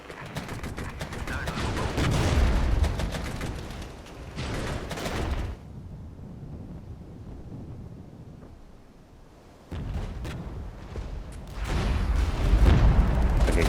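Dense gunfire and heavy explosions from the Cold War tactics game Regiments, with Czechoslovak units and T-55 tanks, sustained loud rattling bursts and booms, dropping to a quieter distant rumble midway before the barrage swells again.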